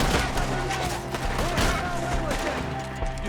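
Gunfire in a Red Dead Redemption 2 shootout, a dense run of overlapping shots ringing out continuously for a few seconds, with a tonal score playing underneath.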